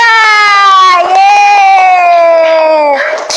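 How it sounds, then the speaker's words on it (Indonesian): Classroom children let out a loud, drawn-out unison cheer close by, sustained for a few seconds and ending in scattered noise, with no clear clapping. "tepuk tangan untuk Diba"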